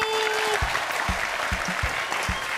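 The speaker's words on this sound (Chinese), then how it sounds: "所以本期一个掌声鼓励" Studio audience applause on a televised Hakka cooking competition, steady clapping of a crowd held at a constant level across the clip, with a few low thumps and a brief tone near the start.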